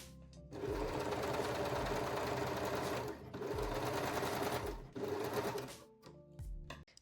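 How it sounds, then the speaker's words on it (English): Serger or zigzag sewing machine running in long bursts while stitching the crotch seam of a thong made with fold-over elastic, a steady close mechanical whir broken by short pauses, with no talking. "Now you can pin the crotch seam and sew it with serger or zigzag stitch."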